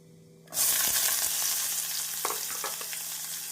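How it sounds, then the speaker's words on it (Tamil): A sudden loud sizzle as chopped onions hit hot oil for a raw banana stir-fry, then continuous crackling frying with occasional stirring scrapes, close up. "இப்பொழுது நறுக்கிய வெங்காயத்தை போட்டு விடலாம்"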